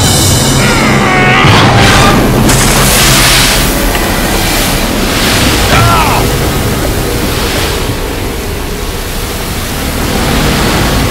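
A heavy gush of water drenches Sandman in the Spider-Man 3 video game, a loud sustained roaring wash like surf or a waterfall that fills the clip and eases slightly midway, with brief voice-like sounds mixed in.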